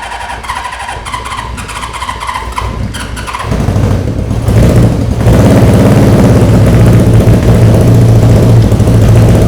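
A barn-find Honda CB550 motorcycle with 6,000 miles cranks with a whirring starter, then catches and settles into a loud, steady running engine that holds close and continuous.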